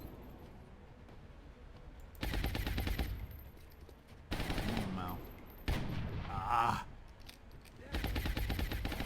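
Bursts of gunfire from XCOM: Enemy Within with the Long War mod come in four separate loud volleys, each lasting a second or more, with quieter game ambience between them.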